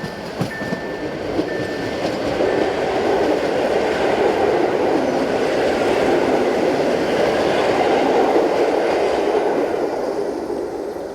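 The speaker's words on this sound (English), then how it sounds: "This particular train set is based at Kraków and was first introduced into traffic in 1980." A passenger train set based at Kraków, in service since 1980, rolls past at close range with a rising and falling roar of wheels on rails, a brief high tone at the start and rhythmic clatter throughout.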